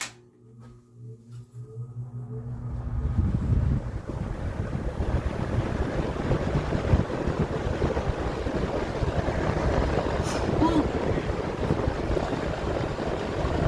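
Vintage Sears 20-inch whole house fan on high speed, a steady loud broadband roar of rushing air after a brief quieter start, running alone with no talk.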